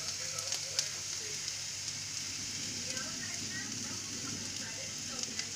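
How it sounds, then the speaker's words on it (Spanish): Onion and garlic fry in oil in a pan, making a fine, even, rain-like crackle that stays close and steady throughout, with a faint voice in the background. "Y mientras se calienta vamos a añadir la cebolla y el ajo."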